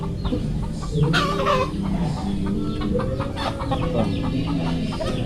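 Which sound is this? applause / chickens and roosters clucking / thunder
chickens and roosters clucking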